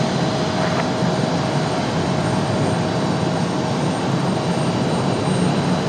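An Icelandair jet airliner from Reykjavik rumbles at Raleigh-Durham airport, a loud, steady broadband engine roar with a faint tonal whine running throughout, and no voices.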